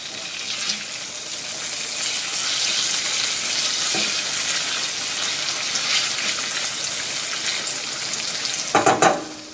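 Browned garlic and chopped sun-dried tomatoes frying in a pan give a steady, close sizzle that runs throughout, broken near the end by a burst of clattering scrapes.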